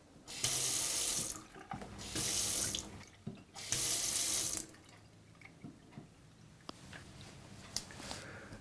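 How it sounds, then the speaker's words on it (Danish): A kitchen faucet that was reported as dripping is turned on and off in three loud bursts of running water, followed by quieter clinks and small drips in a room. "Det var den her vandhane, den drypper igen."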